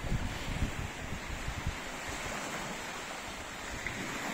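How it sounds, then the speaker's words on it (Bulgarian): Sea waves and steady wind on a chilly winter coast form a broad, constant wash of surf noise, with gusts buffeting the microphone throughout and no voices. "на морето си е доста хладно с вятъра, който духа почти постоянно"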